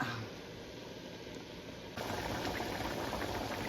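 Beef picadillo simmering in a covered pot, a continuous low bubbling hiss that grows slightly louder halfway through, steady and close with no talking.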